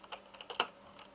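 A title is typed on a computer keyboard as a quick run of soft, close key clicks, about six taps in an uneven rhythm, with no talking.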